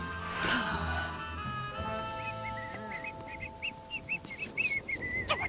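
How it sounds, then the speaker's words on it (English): A person whistles loudly in a Chicago style indoors, the tune rising into sharp, repeated high chirps toward the end, close and alone without talk. "I couldn't sleep, and you're like shout whistling at me. Hey, I'm just whistling, Chicago style."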